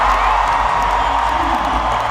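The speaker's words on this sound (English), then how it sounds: "Big ovation, of course," A dense arena crowd at a basketball game roars in a big ovation, a steady, loud wash of cheering and applause with no break.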